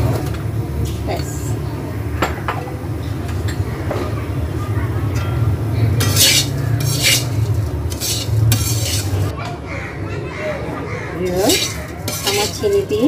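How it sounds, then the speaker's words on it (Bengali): A spoon stirs frying lachha semai with sugar in a pan, giving steady scraping and clinking against the metal over a low sizzle, close and continuous throughout. "আমার চিনি দিয়ে লাচ্চা সেমাইটা ভাজা শেষ"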